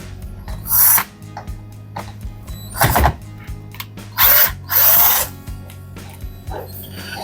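Screws are backed out of the top cover of an LG dishwasher with a power driver, several short whirring bursts of a second or less separated by pauses, with small clicks and handling noise in between.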